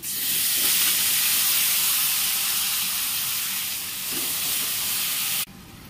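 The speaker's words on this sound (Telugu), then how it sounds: "ఇలా తరిగిన బనానా పీసెస్ అన్నీ వేసుకుని బాగా వేగించుకోవాలి" Chopped banana pieces seasoned with turmeric and salt fry in a hot pan, a steady loud sizzle and hiss that holds for several seconds and then drops off abruptly near the end.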